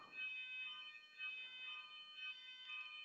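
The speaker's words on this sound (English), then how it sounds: "there there seems to be an alarm right now" A smoke or fire alarm goes off with a faint, distant, repeating electronic beep, pulsing steadily at a shrill high pitch with no one talking.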